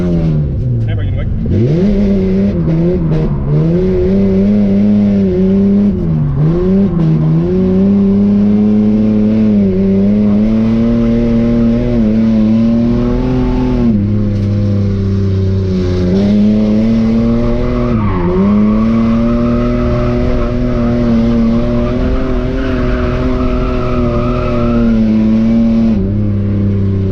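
Budget Australian drift cars at a first drift event, engines revving hard and steadily for a long stretch with rising and falling pitch, loud and close, with tires squealing and people talking.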